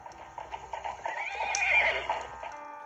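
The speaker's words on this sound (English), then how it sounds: "I like the sound of the horse" A horse in the video game Weeping Willow gives a clear, drawn-out whinny rising and falling in pitch, with faint clip-clop hoofbeats before it, heard alone and close.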